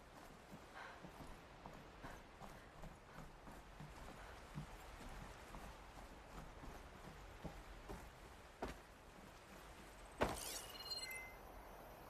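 Horse hooves clip-clopping in a video game with gunfire directed at a lead horse, faint irregular hoof clops under a low rumble, with a sharp crack and glassy burst near the end.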